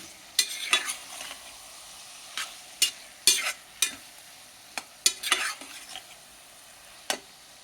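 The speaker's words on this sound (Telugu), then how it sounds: "ఇప్పుడు ఇవంతా బాగా వేగాలండి." Ingredients for dal khichdi frying in a pan and being stirred, with a steady sizzle and sharp scraping strokes of a spoon at irregular intervals, close and fairly loud, with no talking.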